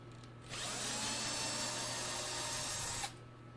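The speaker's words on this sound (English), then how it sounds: "I'm going to use my handy dandy screw drill gun because I'm entirely too lazy to be screwing these out by hand" A cordless screw drill backs out bass bridge screws in one sustained whirring burst lasting about two and a half seconds, close and fairly loud, with no speech.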